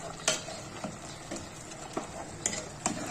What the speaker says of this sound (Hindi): अब हमने इसको भूनना है।